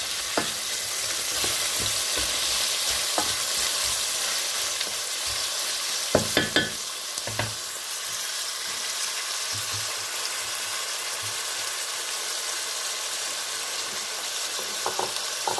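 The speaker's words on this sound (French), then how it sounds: "Je vais compoter mes courgettes." Courgettes cook down in a pan with a loud, steady frying hiss, interrupted by scattered knocks and a quick burst of spoon taps against the pan midway, without speech.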